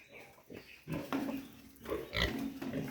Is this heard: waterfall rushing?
no